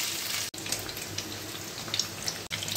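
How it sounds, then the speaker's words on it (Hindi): Paneer lightly frying in hot oil gives a steady, fairly quiet hiss-like sizzle, broken by two brief gaps. "पनीर को हल्का फ्राई करूंगी"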